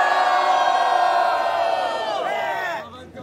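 A live crowd at a team challenge event cheers and shouts loudly and steadily, a dense wall of voices with whoops rising over it, then dropping off abruptly near the end.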